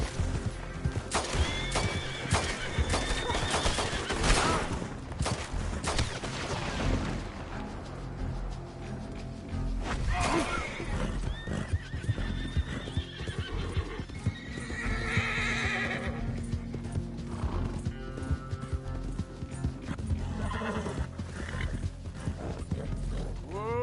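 Horse in Red Dead Redemption 2 neighing and whinnying repeatedly over steady clip-clopping hooves, with creaks and mechanical game sounds mixed in, close and fairly loud throughout, no talk.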